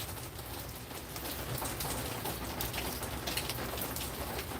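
Steady rain falling inside a covered seating area where water drips down over the seats, a dense, even hiss of drops with no letup, close and moderately loud throughout.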